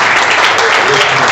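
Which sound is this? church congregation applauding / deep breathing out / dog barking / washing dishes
church congregation applauding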